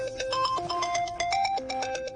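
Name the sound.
phone ringing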